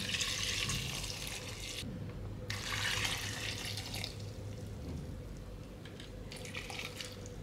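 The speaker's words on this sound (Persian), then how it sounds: "حالا من 1 کاسه دیگه میریزم که 10 سانت بیاد روشو بگیره." Water pours steadily into a container of apples for homemade apple vinegar, a close, continuous splashing and gurgling stream with short pauses and shifts in flow, no talking.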